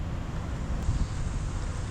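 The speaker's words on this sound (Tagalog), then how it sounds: "Lakas ng hangin, no?" Steady roaring wind buffeting the microphone, a continuous broadband rush with no pauses.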